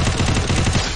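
Rapid burst of automatic gunfire in a competitive shooter video game, dense overlapping shots firing loud and close for about a second.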